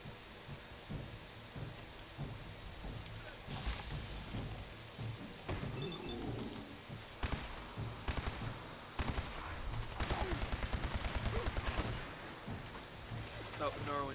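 Gunfire in a modded video game, with scattered single shots early and then a rapid burst of automatic fire near the end over a constant background bed, moderately loud.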